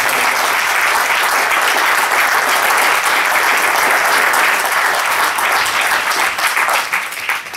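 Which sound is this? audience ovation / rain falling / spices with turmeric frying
audience ovation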